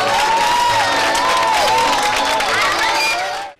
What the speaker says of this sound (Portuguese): Quem foi, gostou e aplaudiu